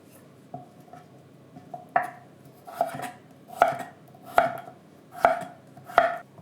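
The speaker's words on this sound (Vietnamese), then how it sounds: "rồi phần bên trong thì mình cắt nhỏ" A knife cuts broccoli stem on a cutting board in a run of about six crisp, evenly spaced chops that grow slightly louder, close up with no talking.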